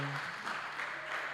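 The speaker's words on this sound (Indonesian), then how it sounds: "boleh kayak tepuk tangan lagi kali ya buat babak pertama dari games ini" Faint, brief applause from an audience at a Christmas event at HKBP Kebayoran Baru church in Jakarta, marking the end of the first round of games, a soft wash of scattered clapping.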